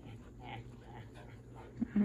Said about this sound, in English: Puppies! Puppy, puppy, puppy, puppies!